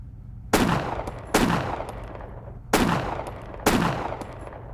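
Four sharp, loud gunshots crack out at clay targets in the military shooter ARMA 2, irregularly spaced with brief ringing tails between them, with no talking in between.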